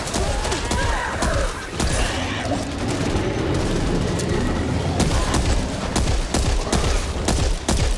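Back 4 Blood video game gunfire in a fast rolling fusillade with heavy booms and thuds, nearly constant and loud across the whole stretch, with a brief voice shouting over it.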